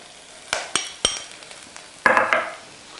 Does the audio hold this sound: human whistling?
no